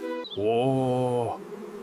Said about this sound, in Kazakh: Мына ағашта аралар жүр